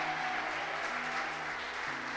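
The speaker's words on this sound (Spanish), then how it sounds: "Dale un fuerte aplauso al que vive." A church congregation applauds loudly and continuously, a dense wash of clapping filling the room with no voices standing out.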